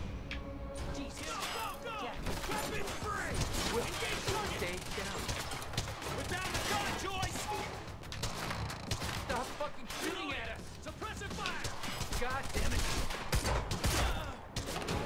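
Gunfire in a Quantum Break firefight, a dense, continuous clatter of shots and impacts that runs throughout, mixed with game sounds and voices.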